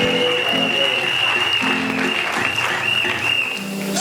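A congregation applauding during a wedding blessing, with a dense, steady wash of clapping filling the room throughout, close and loud, with a sustained musical tone running underneath.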